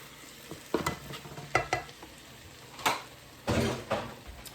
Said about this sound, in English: I'm going to add in our shrimp that I had just sitting here sauteing in the side